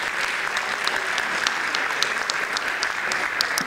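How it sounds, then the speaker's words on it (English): Graduating seniors applaud at a high school honor roll awards ceremony, a steady dense patter of many hands clapping at moderate distance with no voices over it. "so give yourselves a big round of applause"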